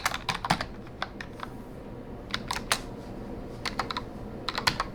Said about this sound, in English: All right, so I typed in a fake address.